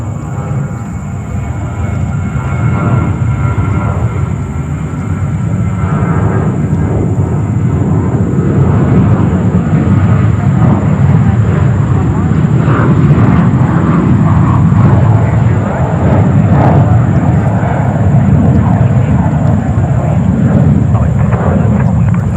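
Airbus A350-1000 jet airliner at JFK Airport, a continuous deep engine roar with a thin high whine, moderately distant and steady, with people talking faintly underneath.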